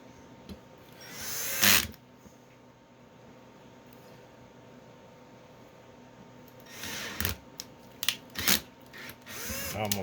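A drill driver set to a torque limit tightens screws on an Elegoo/Anycubic resin printer vat, producing short whirring bursts: one early, then several clustered near the end, with quiet handling noise between.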